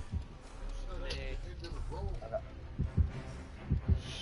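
Heartbeat of a killer's terror radius in the Dead by Daylight video game, low muffled thumps in paired beats growing more distinct toward the end, beneath game ambience and a faint voice.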